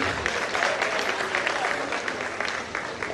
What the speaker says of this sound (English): So please, can we clap for them and encourage them?